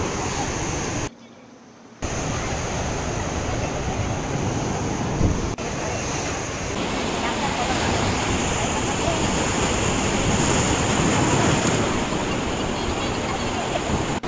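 Sea waves break on Varkala beach near the rocks in a continuous, loud, broad roar of surf, with a brief drop in sound early on.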